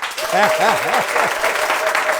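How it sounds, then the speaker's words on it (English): An audience claps in a broad, steady wash while someone speaks over it with rising and falling voiced tones. "Clap for me first, then I'll show you."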